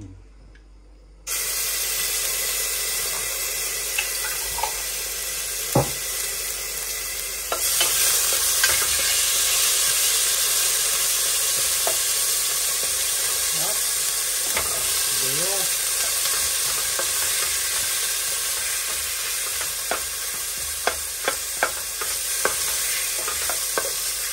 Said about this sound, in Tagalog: Lagyan natin ang bawang. At mainit na yung mantika.